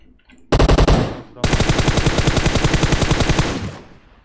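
Automatic gunfire in PUBG Mobile on the Livik map: a short, loud burst of rapid shots, a brief pause, then a longer sustained burst of evenly spaced rounds close by, with no talk over it.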